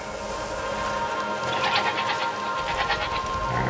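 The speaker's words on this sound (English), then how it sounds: "What's over there? Goats!" Goats bleating in the video game A Plague Tale Requiem, several wavering bleats rising over a busy market ambience, moderately close and without speech.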